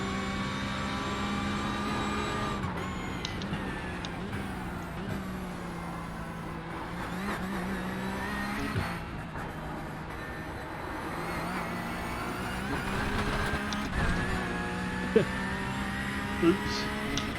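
Race car engine on a hot lap in a racing simulator, a continuous droning roar that rises and falls with shifts and revs, steady and moderately loud throughout.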